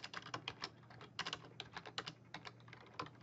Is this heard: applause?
no